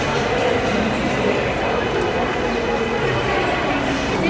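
Train noise at a crowded Kolkata railway station near Dakshineswar: a steady, loud rumble of a train running through the platform, continuous for the whole stretch, with crowd murmur and voices mixed in.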